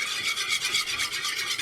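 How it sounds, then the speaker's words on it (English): A whisk beats a lemon juice dressing in a bowl, giving a continuous, fast, scratchy rhythmic swishing that stays close and even throughout, with no talking. "Give this a good whisking together."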